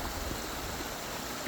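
A tiny creek waterfall on a Mount Washington hike, a continuous close rush of flowing water that holds steady throughout, with no voices.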